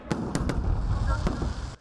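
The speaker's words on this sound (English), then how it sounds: "The fireworks shone brightly 24 hours after Leicester City's darkest day." Fireworks burst during a Diwali festival celebration in Leicester, several sharp cracks popping over a dense, continuous rumble of crowd and crackle.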